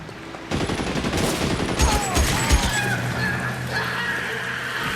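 A BAR rifle fires in L.A. Noire, a rapid fusillade of sharp, close shots in short bursts layered over other game sounds, ending in a lingering echo.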